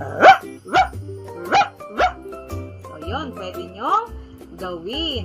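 A person mimics a dog with several short, loud barking yaps, then speaks in a normal voice.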